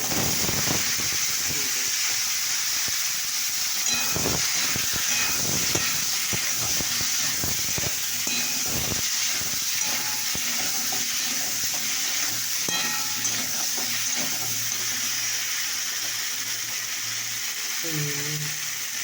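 Peas and potatoes sizzle and hiss steadily in a hot pan throughout, with occasional clinks and stirring sounds and a faint voice in the background.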